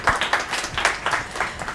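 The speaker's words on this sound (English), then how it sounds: "I want you all to give a big round of applause to Vivek Karunakaran." An audience at a stage event in Chennai claps in steady applause, a dense, fairly close patter of many hands that keeps going throughout.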